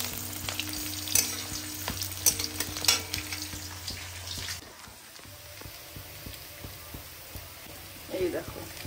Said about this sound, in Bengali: তেল গরম হয়ে গেছে, এবার দিয়ে দেবো এর মধ্যে তেজপাতা